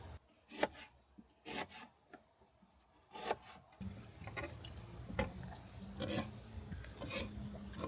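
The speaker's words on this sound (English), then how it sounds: "Just observing the chopping on the new table." Food being chopped on a sturdy new table at a Devon campsite: sharp, irregular knife knocks, sparse at first, then continuing under steady outdoor ambience and faint background activity.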